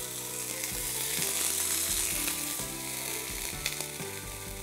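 Lamb ribs browning in a hot pan give off a steady, dense sizzle and crackle that holds close and loud for the whole stretch, with a few low clunks of the pan underneath.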